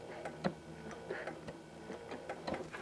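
A Janome CM17 sewing machine makes a few stitches in place to lock threads while ruler quilting, with quiet irregular ticking and mechanical clicks at close range.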